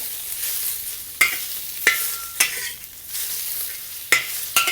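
Raw prawns fry in a pan for Cantonese scrambled eggs with shrimp, giving a loud, steady sizzle broken by several sharp scrapes and knocks of a spatula.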